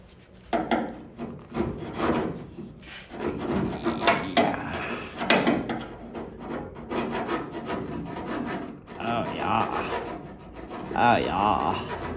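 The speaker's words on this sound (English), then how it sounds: "Make sure your flipper scraper is right side up at all times." A flipper scraper drags and rasps across a surface while working on the rear diffuser, tyre and exhaust area of a Toyota SW20 MR2, giving repeated close, gritty strokes in uneven bursts with short pauses between.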